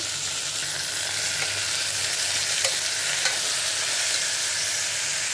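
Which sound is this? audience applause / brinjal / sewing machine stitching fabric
brinjal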